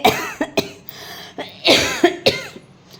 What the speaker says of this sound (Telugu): ఎందుకో సడన్గా దగ్గు వచ్చిందండి